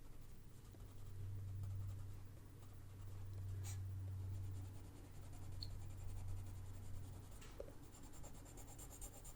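Colored pencil pressed hard against paper to burnish and blend a grayed lavender shade, a steady close scratchy rubbing that continues with brief pauses, with no one speaking.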